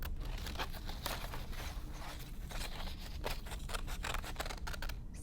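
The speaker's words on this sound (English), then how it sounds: "when I'm cutting, I'm always cutting away from me. I'm not turning my scissors," Scissors snip through paper in a quick, uneven series of crisp cuts and rustles, close and quiet, as the paper is turned between strokes.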